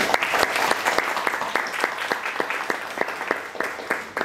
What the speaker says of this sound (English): May we all express our gratitude with a huge round of applause.